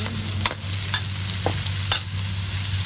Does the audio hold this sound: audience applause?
no